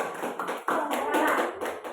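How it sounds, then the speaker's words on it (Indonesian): A classroom of students claps for group 3, a burst of mixed hand claps and taps mingled with talk and voices throughout the short stretch. "Ya, tepuk tangan sekali lagi."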